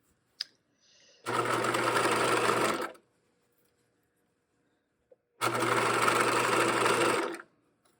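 A sewing machine stitches a folded hem on a pair of shorts in two steady bursts of rapid, even whirring, each lasting under two seconds, separated by a quiet pause with small clicks.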